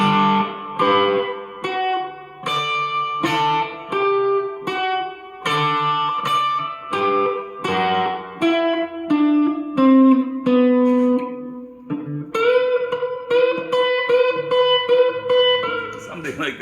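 Electric guitar playing the opening riff of a song in D, with heavy reverb and an overdriven tone. Plucked melodic notes ring out alone in a steady rhythm, then settle into sustained chords near the end.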